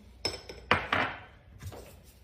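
A utensil clinks against a bowl while stirring a tart filling of thickened cream and eggs, giving a few sharp close taps followed by softer scraping.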